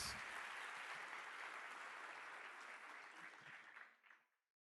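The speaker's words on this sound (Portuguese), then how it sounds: "Você pode aplaudir mais forte ou não?" A church congregation in São Paulo applauds during a sermon, dense steady clapping from many hands that holds loud and even before thinning out and stopping near the end.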